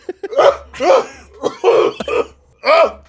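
A voice coughs and sputters in a series of harsh, throaty bursts, close and loud, like someone imitating a coughing fit.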